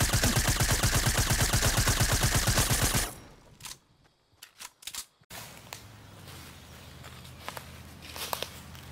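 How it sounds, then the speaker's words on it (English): A suppressed SMG fires a rapid, evenly spaced burst of muffled shots for about three seconds, followed by a few scattered clicks and handling noises. "now let's move on to a silenced version of this thing, the suppressed SMG"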